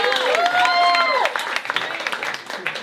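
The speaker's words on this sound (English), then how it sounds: "Clap it up for your next player, Masha." An audience in a comedy club claps and cheers for the next player, the applause rising under an excited voice and then thinning into scattered claps.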